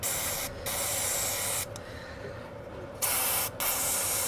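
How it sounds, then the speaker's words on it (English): Isopropyl alcohol sprayed onto a Tektronix TDS-640 oscilloscope acquisition board: a steady, close, hissing spray that runs in several long bursts with short pauses between them, alone with no talking. "And then we'll spray some more alcohol."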